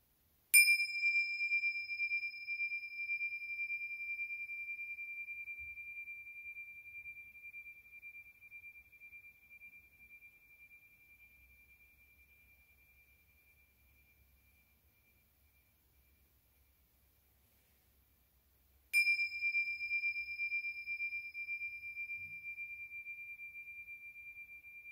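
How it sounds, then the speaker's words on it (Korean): A meditation bell is struck twice, each a clear bright ding ringing out and slowly decaying over many seconds, the second strike arriving after near silence. "종소리에 집중해 주시기 바랍니다"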